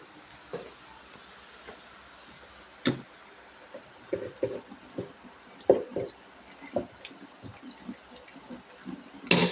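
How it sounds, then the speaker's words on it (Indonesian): Hands being washed under a running tap in a midwifery childbirth-care setting, after gloves are removed and soaked in chlorine solution: soft splashing and squishing water with scattered drips and rubbing bursts, close and fairly quiet, no talking. "Kemudian cuci tangan."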